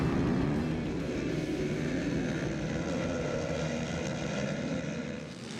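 Many ATV motocross engines revving together at the start gate of a national championship race, a dense, steady droning roar that holds loud throughout and eases slightly at the end.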